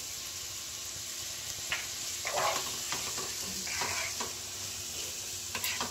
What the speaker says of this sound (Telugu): ఇప్పుడు దీన్ని కాసేపు ఫ్రై అవనిద్దాం